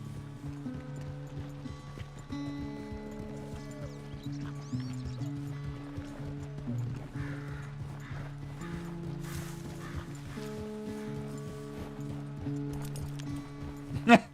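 Horse hooves clip-clopping at a steady, fairly quiet pace in Red Dead Redemption 2, set under a bed of game music and occasional character speech.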